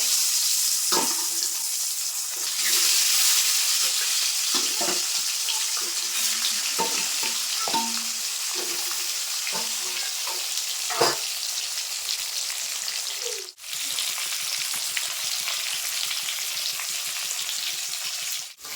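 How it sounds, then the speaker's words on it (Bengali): Pieces of pangas fish frying in hot oil, a dense continuous sizzle close by, broken by occasional clunks and scrapes of a turner, with a brief dip near the end. "ওই তেলের ভিতরে বাকি মাছগুলো আমি ভেজে নেবো একইভাবে"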